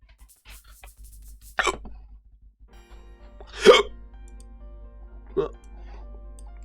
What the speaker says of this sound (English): Of course I got the hiccups now.